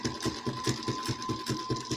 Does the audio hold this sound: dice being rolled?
no